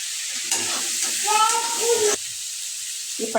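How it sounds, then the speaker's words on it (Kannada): Chopped garlic and ginger fry in a pan for a dhaba-style paneer masala gravy, giving a steady close sizzle while a voice talks over the middle stretch. "ಇವಾಗ ನಾವು ಇದಕ್ಕೆ ಬೆಳ್ಳುಳ್ಳಿ ಮತ್ತು ಶುಂಠಿ ಏನು ಹೆಚ್ಚಿಟ್ಕೊಂಡಿದ್ದೀವಲ್ಲ ಅದನ್ನ ಹಾಕಿ ಚೊಲೋತ್ನಾಗನ ಫ್ರೈ ಮಾಡ್ಕೋಬೇಕು"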